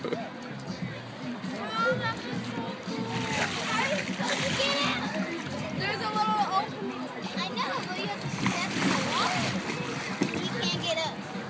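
A young boy splashes in water while trying to walk on it, with repeated splashes and sloshing mixed with steady, excited talk from nearby adults and the child throughout.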